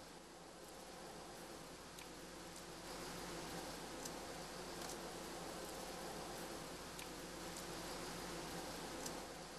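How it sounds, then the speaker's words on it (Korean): Honeybees buzz in a continuous, faint, dense hum with a few brief rises as individual insects pass close, and no voices. "벌들도 개미와 더불어 대표적으로 사회를 이루며 살아가는 종."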